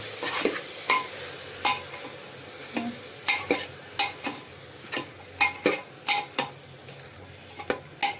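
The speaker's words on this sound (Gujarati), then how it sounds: "હવે આને થોડી વાર હલાવતું રહેવાનું." Vegetables and spices are stirred in a frying pot for a moong dal daliya, with sharp metal spoon scrapes and taps against the pot at an irregular rhythm over a soft sizzle.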